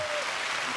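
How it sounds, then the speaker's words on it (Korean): Dense audience applause fills the hall at a televised 2023 drama awards ceremony, loud and continuous for a brief moment, with a faint voice briefly audible over the clapping. "박수 부탁드립니다."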